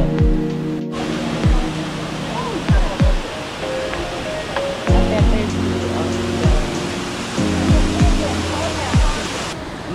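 Shifen waterfall in Taiwan roaring as a steady broadband rush of falling water, with repeated low descending whooshes and tonal hums layered over it.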